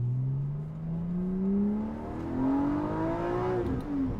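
A 2022 Porsche Boxster GTS with its 4.0 engine revs up while driving, the pitch climbing steadily through the gear before dropping at a shift near the end; loud, close and continuous.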